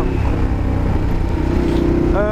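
Ducati Diavel motorcycle engine pulling in fifth gear with a 14-tooth front sprocket, a loud, steady droning rumble that rises in pitch toward the end, with a faint whine over it.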